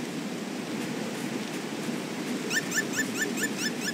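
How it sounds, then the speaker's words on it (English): In the video game XIII, a dog yips and whimpers in a rapid repeating series, faint and distant over steady rain-like background noise. "I hear dogs, that's one thing."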